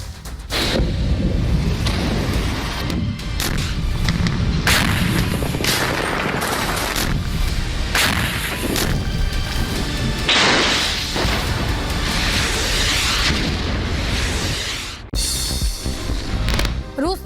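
Heavy bombing and shelling in Donetsk, with repeated deep booms and rumbling blasts through war footage and a voice talking over much of it.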